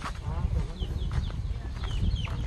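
Chickens clucking nearby in a rural setting, several soft clucks and short calls over a rumbling background, with faint voices in the mix.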